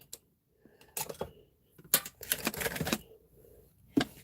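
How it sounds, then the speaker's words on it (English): Tim Holtz scissors snipping through metal brads, a scattered series of sharp close clicks and crunching snips at uneven intervals, with quiet gaps between and no talking. "I'm looking at these brads and I'm trying to cut this. Oh, you know what I could use? My Tim Holtz scissors."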